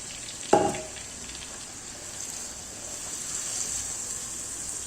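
Chicken pieces frying dry in a tagine with no oil, fat or water, giving a steady, quiet sizzle and hiss, with one brief louder clatter near the start.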